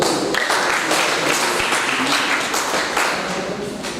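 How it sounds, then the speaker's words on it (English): Gathered audience clapping after a speech at a Legal Aid Board event, a loud dense round of hand claps with sharp irregular strikes, sustained and fading slightly toward the end. "Let's clap for ourselves."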